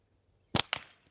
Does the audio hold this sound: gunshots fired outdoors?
yes